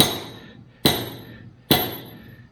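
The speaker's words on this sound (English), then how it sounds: "driving in the rebar." Three loud, evenly spaced hammer blows ring out close by as rebar is driven into drilled holes for a cattle barn repair on a Thai farm, each strike sharp and metallic with a short decaying ring.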